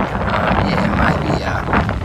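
Wind gusting steadily across a microphone on a coastal beach at Merriweather, a broad continuous rumble and hiss throughout, loud and close with no clear pauses.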